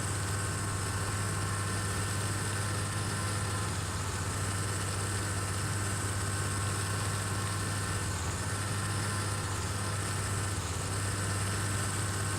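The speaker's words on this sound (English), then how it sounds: "that sounds like the engine sputtering" Tractor engine in Farming Simulator 17, a steady low idling drone with a constant hum and slight roughness, alone and fairly quiet throughout.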